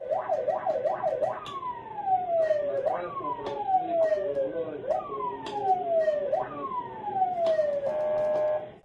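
Police car siren during a chase through Ulan-Ude, starting with rapid yelp cycles then switching to long falling wails repeated about every second and a half, loud and near, with a voice speaking over it.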